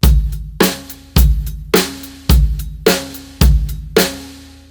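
Drum kit groove for a worship song, with a punchy bass drum and cracking snare trading in a steady, evenly spaced pattern, about eight strong hits, loud and alone with ringing decay and cymbal wash.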